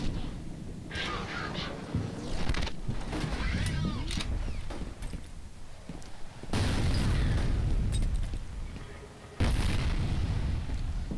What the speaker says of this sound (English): Oh, no. Grenade.